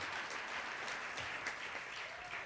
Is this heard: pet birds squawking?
no